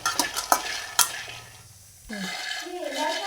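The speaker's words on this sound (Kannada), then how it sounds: "ಇದು ಶೇಂಗಾ ಹುರ್ಕೊಳತ್ತೇನೆ ರೀ" Peanuts being dry-roasted in a pan for tomato chutney, stirred with a spoon: close, scraping stirs and a few sharp knocks against the pan over a soft sizzle, then a brief quiet gap before a voice speaks at the end.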